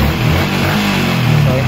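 A Yamaha Sniper motorcycle engine is briefly revved because it dies at idle, giving a steady, close mid-pitched engine drone that swells slightly over less than two seconds.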